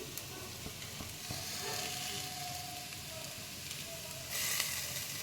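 Poha is stirred in a hot pan with lemon juice added, producing a soft continuous sizzle with light stirring scrapes and a brief louder hiss toward the end.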